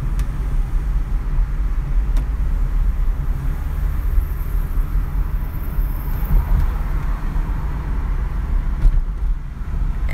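A car drives along a mountain road in Jamaica, its low engine and road rumble steady throughout with wind buffeting the microphone and a few faint clicks inside the cabin.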